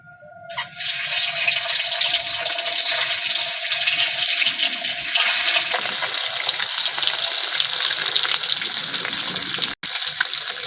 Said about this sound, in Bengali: এবার ডিমগুলো দিয়ে দেবো।